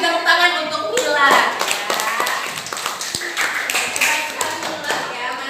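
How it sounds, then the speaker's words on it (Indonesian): A classroom of students claps for a classmate, a loose patter of hand claps and taps that thins out into scattered individual claps, with voices mixed in. "kasih tepuk tangan untuk Mila"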